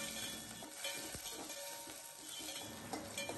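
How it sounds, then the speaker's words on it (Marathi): Chopped tomato sautés with onion in a spiced oil tempering, giving a steady soft sizzle with occasional scrapes and stirs of a spatula in the pan, fairly quiet and with no talking. "टोमॅटो मऊ होईपर्यंत आपल्याला तो या फोडणीमध्ये परतून घ्यायचा आहे"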